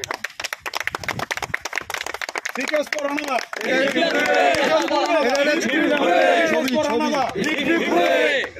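A crowd claps together at a felicitation ceremony honouring a pond owner, a dense burst of applause for about three seconds that gives way to loud overlapping voices talking and calling out.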